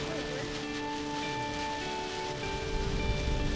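Steady rain falls on a May morning in Atlanta, a continuous close hiss of drops with a faint tonal hum beneath it and a few louder spatters near the end.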